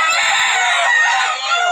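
A good-sized, handsome rooster crows once, loud and close, a sustained strained call that fills the whole moment without any talking over it.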